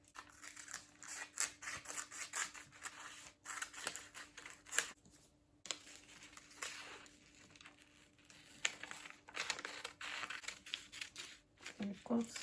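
Scissors cutting fabric for an off-shoulder dress with a basque waistline, producing irregular crisp snips and rustling of cloth close by, with quiet talk and a faint steady hum in the background.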